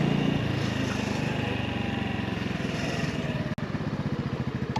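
Honda Navi motorcycle ridden through a park, its small engine putting out a close, steady putter with rhythmic pulsing, briefly cut by a short sharp noise near the end.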